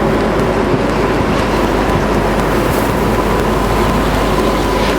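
Cadet racing karts at a Slideways sprint race run bumper to bumper up the main straight, a steady, dense engine drone filling the whole stretch without letup, loud and broadband like a close pack passing.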